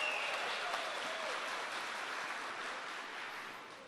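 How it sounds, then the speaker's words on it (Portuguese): Dense, loud applause from a large crowd at a church service, a continuous wash of clapping that slowly fades slightly toward the end. "Aplaude quem está do seu lado"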